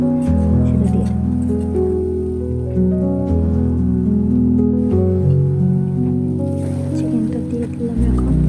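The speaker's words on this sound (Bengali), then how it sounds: "দিয়ে দিলাম পেঁয়াজ কুচি, দিয়ে একটু লাল লাল করে ভেজে নেব" Chopped onions fry in a pan for a Bengali chicken and potato curry, giving a continuous crackling sizzle throughout, with steady tonal sound layered underneath.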